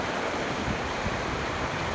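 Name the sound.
flooded river flowing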